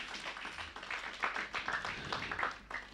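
A church congregation claps in a brisk, uneven patter of many hands, fairly faint and steady for a few seconds with some murmured voices mixed in.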